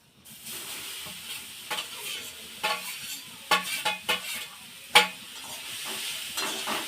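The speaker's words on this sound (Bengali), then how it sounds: "গ্যাসটা খুব গরম হয়ে গেছে গরম হয়ে গেছে গাজরগুলো দিব" Carrots frying in ghee in a hot kadai over a high gas flame: a steady sizzle broken by scraping stirs and sharp metallic clinks of the spatula against the pan.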